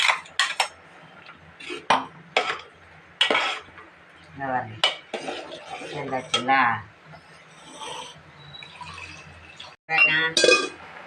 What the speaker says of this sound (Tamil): இந்த பாருங்க தேங்காய் அரைச்சி வச்சுருக்கோம்லம்மா இதை சேர்த்துக்கிறோம்